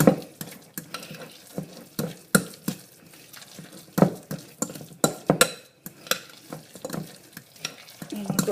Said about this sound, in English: I'll go ahead and mix it up